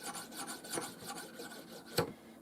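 A knife blade is drawn with light strokes across a banded jasper Viking-style whetstone, producing soft rhythmic rasping scrapes close up and ending in one sharper stroke.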